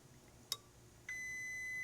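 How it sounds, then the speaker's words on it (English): A multimeter set to diode mode lets out a steady electronic tone on making a connection while probing a faulty transmission control module, preceded by a brief click, clear and close. "I've got it set on diode mode, so when it sees a connection, we'll get a beep"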